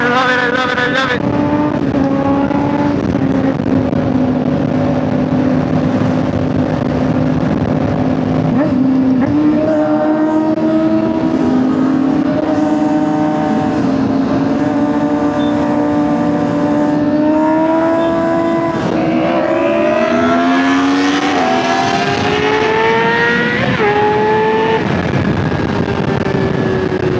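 A Honda CBR600RR motorcycle at full throttle on an evening road ride, its engine screaming loud and close, climbing through the revs with repeated upshifts and rising pitch for the whole stretch, no talk.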